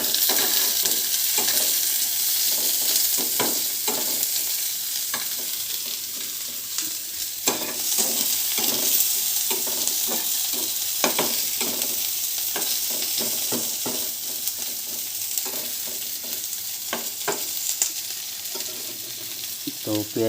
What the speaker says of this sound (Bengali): পেঁয়াজগুলোকে একটু ভেজে নেব।